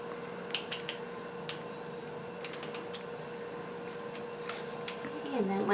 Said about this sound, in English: to remove the spark plugs, you've got to use a 5/8 socket and a ratchet